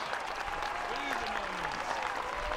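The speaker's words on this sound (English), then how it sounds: "That charge deserves a round of applause." Outdoor crowd applause at a Battle Abbey battle reenactment after a cavalry charge, a moderate, continuous wash of clapping with a voice and other faint tones mixed in.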